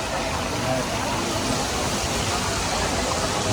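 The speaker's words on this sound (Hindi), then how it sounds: "ये देखे फाउंटेन, यहाँ से पानी जा रहा है और इस दूसरी तरफ ब्रिज के दूसरी तरफ गिर रहा है।" Water pouring from an indoor mall fountain by a bridge in Dubai, a dense, steady rushing roar that holds unchanged and fairly loud throughout.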